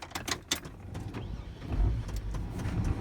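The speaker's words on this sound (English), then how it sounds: "we're gonna turn the car back on" Engine of a 2002 Chevy car starts with a brief crank and settles into a low, steady idle, preceded by a few clicks and close, moderate in level.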